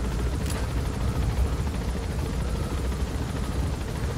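A helicopter in Metal Gear Solid V: The Phantom Pain gives a steady, loud rotor and engine drone that holds evenly throughout, with no talk over it.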